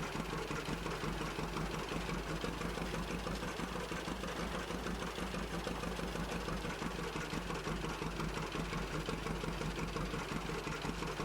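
A John Deere 630 tractor engine in Farming Simulator runs at a slow, steady chug while planting soybeans, a continuous moderately loud throbbing drone with no talk.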